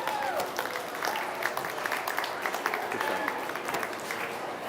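Applause at a state fair breeding and market goat show for the exhibitors, a moderate crowd clapping in an even patter, with a few voices and faint background calls mixed in.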